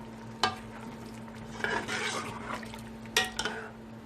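Fatty mutton stir-fried in oil in a pot, with a soft background sizzle broken by scraping spoon strokes and a few sharp clinks against the pan, fairly quiet overall.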